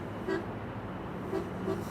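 A departing bus sounds its horn outside Amsterdam Schiphol Airport, giving three short toots spaced apart over steady background traffic hum.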